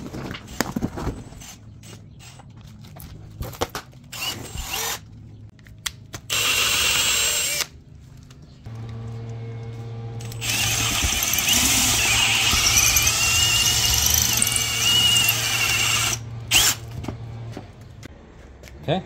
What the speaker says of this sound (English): We're gonna drill here, the ears on the upper and lower